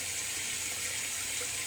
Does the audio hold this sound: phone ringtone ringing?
no